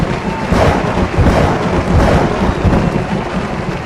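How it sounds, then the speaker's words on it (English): Big rolling claps of thunder boom loudly over steady rain, the rumble swelling and easing in heavy waves across a few seconds with no voices. "we're going to go with big claps of thunder this week to celebrate these closings"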